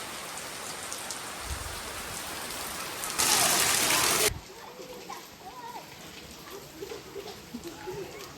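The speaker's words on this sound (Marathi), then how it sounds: "अचानक आलेला पाऊस." A sudden downpour of the first rain drums steadily on surfaces and splashes nearby, with a brief, louder roaring gust partway through before the rain settles back to a softer patter under faint voices.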